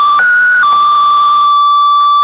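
Korg MonoPoly synthesizer with noise fed into its filter at resonance, producing a loud, steady sine-like ringing tone with overtones that jumps up briefly and settles back down, holding alone with no voices.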